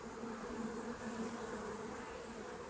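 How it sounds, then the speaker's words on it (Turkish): Honeybees hum steadily around a group of beehives outdoors, a soft, continuous buzzing drone from many insects at some distance, with no talking. "Görüyorsunuz arılarımız."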